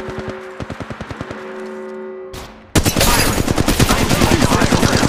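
Apex Legends Mobile gunfire rings out loud and close: a quick run of evenly spaced single shots, a brief pause, then a dense burst of rapid automatic fire.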